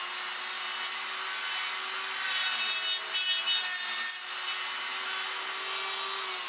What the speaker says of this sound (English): Now I take a motor tool,